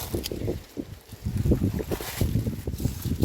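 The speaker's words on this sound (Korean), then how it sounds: "어우 바람 살랑살랑살랑 어우 시원하다" Gentle outdoor breeze at a rural grape harvest, heard as soft, irregular low rumbling gusts buffeting the microphone, with no talk.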